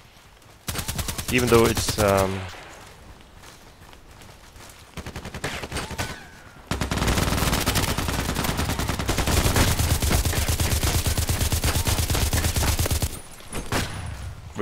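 Rapid automatic HK416c fire from the video game Contract Wars in long, loud bursts with short gaps, a brief distinct rattle early on, and a voice speaking briefly over it.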